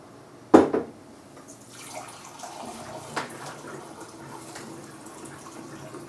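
Water is poured into a coffee press pot holding ground coffee, opening with a sharp splash and then a soft, trickling flow at moderate volume, with no talking.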